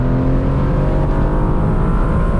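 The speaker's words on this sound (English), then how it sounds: "I'm going to plant it on the accelerator, and off we go." An Aston Martin Vantage Roadster in drive pulls away under full throttle, its engine a loud, steady close-up roar that holds strong for the whole stretch with no voices over it.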